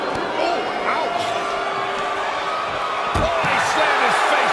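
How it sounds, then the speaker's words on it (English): A wrestler's face is slammed into the barricade at a falls-count-anywhere house show in Tokyo, a sharp impact thud landing about three seconds in over steady arena crowd noise, with a commentator talking throughout. "he slammed his face right into the barricade"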